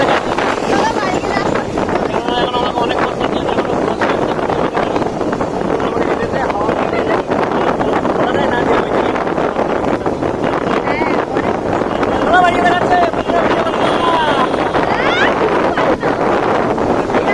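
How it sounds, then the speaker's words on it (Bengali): Strong wind roars steadily into the microphone, a dense rushing gust that stays loud throughout without letting up. "ঝড় উঠেছে ভীষণ হাওয়া দিচ্ছে কিরকম"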